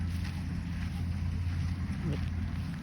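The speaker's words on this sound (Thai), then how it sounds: "รถเกี่ยว" Combine harvester engine working a rice harvest field, a steady low droning hum mixed with wind buffeting the microphone, continuous and moderately close.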